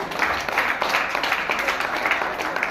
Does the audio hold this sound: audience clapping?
yes